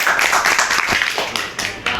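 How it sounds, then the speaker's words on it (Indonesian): A classroom group claps for the leader of a Kahoot quiz in a brief, close burst of mixed hand claps and voices lasting about two seconds. "tepuk tangan dulu dong."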